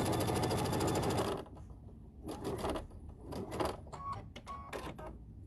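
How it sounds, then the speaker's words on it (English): Close-up sewing machine runs a quarter-inch seam through quilted bathmat fabric for about a second, then stops, giving way to scattered clicks and handling noises. "so we're going to sew our 1/4 inch seam"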